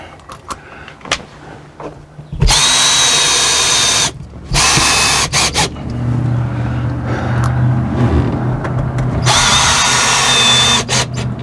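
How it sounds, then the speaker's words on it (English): A power drill driving screws through paneling into an aluminum frame during refrigerator fire repair: loud, close whining bursts, one about two seconds, then a long run with a lower grinding tone as the screw seats, and another burst. "And I'm going to shoot a few screws in it."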